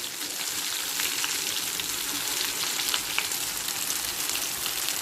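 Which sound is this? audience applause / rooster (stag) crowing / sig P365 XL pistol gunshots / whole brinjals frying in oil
whole brinjals frying in oil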